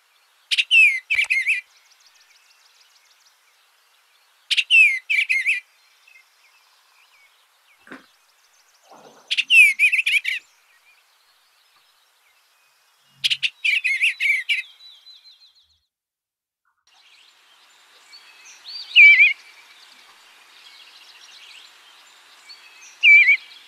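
Male eastern bluebird song: four short bursts of bright warbling notes spaced a few seconds apart, clear and fairly near, followed by fainter softer twittering toward the end with no other sound.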